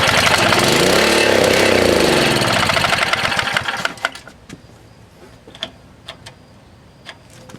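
A minibike engine starts for the first time, running loud and close for about four seconds with a rough, wavering drone, then cutting out and leaving scattered clicks and ticks.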